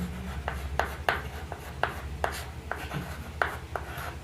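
A maths proof being written out by hand, with close, steady pen-on-paper scratches in short strokes at an irregular, brisk rhythm over a low background hum, with no talking.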